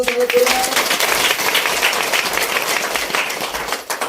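A crowd at a devotional Datta gathering in Mahur applauds with steady, broad clapping that lasts throughout and stays moderately loud, with some speech mixed in beneath it.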